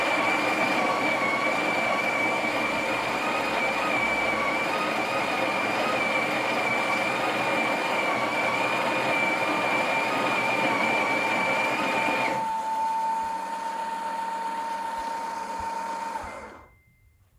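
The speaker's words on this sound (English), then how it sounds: "You can touch the button to grind" A Breville Oracle Touch BES990 espresso machine grinding coffee, a loud steady whirring grind with a high whine that shifts tone partway through, then winds down and stops.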